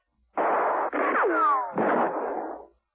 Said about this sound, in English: Verno and Smirnoff, hearing the firing, gave up banging on the door and returned to the action